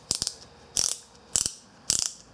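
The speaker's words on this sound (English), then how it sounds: "You slide that pipe that you're going to cut in here and you tighten the wheel down on it, and then you just ratchet it" A ratcheting pipe cutter clicks around a pipe while fixing up a car hauler trailer, with four close, sharp bursts of rapid ratchet clicks spaced about half a second apart, alone without talk.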